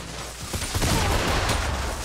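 Rapid bursts of video game gunfire in a battle royale match, dense and continuous across the whole stretch, with sharp cracks standing out over a busy, loud backdrop.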